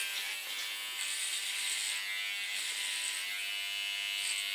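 Electric hair clipper buzzes steadily, close up, while cutting unwashed hair for a nape and side shave, a continuous high whirring drone with slight changes in pitch and no speech.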